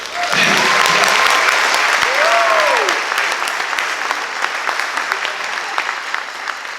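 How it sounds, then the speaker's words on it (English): Audience applause for a school jazz band at a spring concert, loud continuous clapping with a few cheers and whoops at the start, then settling into steadier clapping. "So round of applause for these guys."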